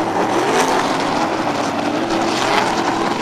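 Econo sprint race cars near the finish of a race on a newly opened oval track, heard as a loud, steady, close engine roar that drowns out everything else, with no voices.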